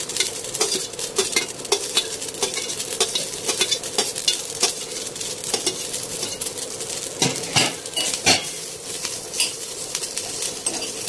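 Sliced onion sizzles in a pan over low heat for a Mangalore-style chicken sukka, with loud, close, repeated scraping and clinking of a metal spoon stirring against the pan over a constant frying hiss.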